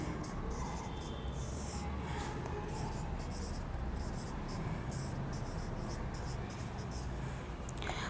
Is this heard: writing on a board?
yes